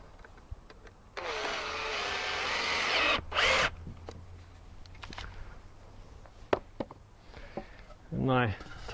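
A power drill pre-drilling and driving screws into wood during workbench assembly runs in one sustained whirring burst, then a shorter sharp spin, with light knocks afterward and a quick rising whine at the end.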